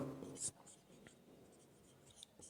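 Pen or pencil scratching on paper while a Bengali arithmetic lesson is written out, a few short strokes under a quiet room tone, with a louder scrape near the start.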